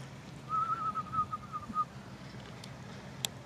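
A person whistles to call ducks, a short wavering, breathy tone lasting about a second, thin and unsteady, in quiet outdoor surroundings.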